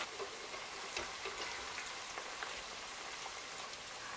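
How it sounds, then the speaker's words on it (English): Plantain slices frying in hot oil for Cameroonian poulet DG, a steady, quiet hiss with fine crackling and occasional soft pops, heard alone with no talk. "our oil is hot enough and we're just going to go ahead and fry our plantain"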